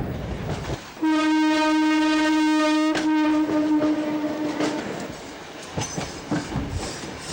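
A train on the Western or Central Railway through central Bombay sounds a long, loud harmonic horn for about four seconds, then rumbles and clatters past close by amid city noise, with no talk.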